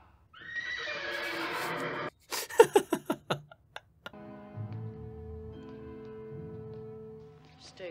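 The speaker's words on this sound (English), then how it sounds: "The horses are scared of her." Frightened horses in the film Young Frankenstein whinny and neigh loudly, followed by a quick run of sharp clip-clop beats and then quieter film sound with music underneath.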